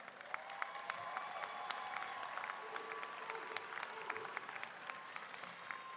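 A graduating class of 2024 at a Centennial High School graduation ceremony applauds, with sustained, dense clapping from a large crowd in a big space, heard at a moderate distance.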